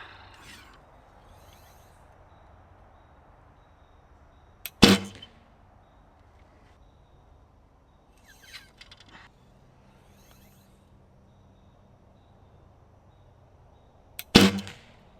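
Arrows are loosed from a Hoyt SR25 recurve riser with Formula Metrix limbs, giving sharp, loud snaps of the bowstring spaced several seconds apart, with quieter clatter between them and no talking.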